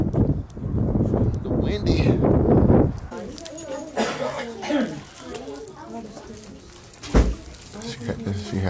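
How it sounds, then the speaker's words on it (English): Gusty wind buffeting the microphone outdoors, loud rumbling at first, then easing as people talk over it. "it's windy out here though"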